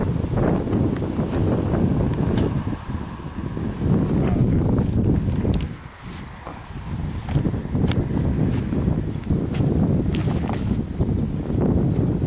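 Strong wind buffets the microphone on an outdoor disc golf course, a loud, continuous rumbling roar with gusty swells and one brief lull near the middle, and no talking.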